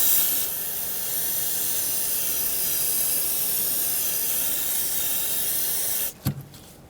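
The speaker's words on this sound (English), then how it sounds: "Spray this all down with some brake parts cleaner." Brake parts cleaner sprayed from an aerosol can onto the brake lines of a 2006-2010 Hyundai Sonata: a long, steady, close hiss for about six seconds, then it stops with a couple of soft knocks.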